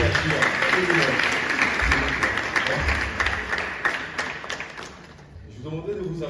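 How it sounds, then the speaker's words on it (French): An audience at a French-speaking gathering claps steadily throughout, a dense wash of many hands that thins slightly toward the end, with a voice speaking over it. "Je vous demanderai de vous applaudir vous"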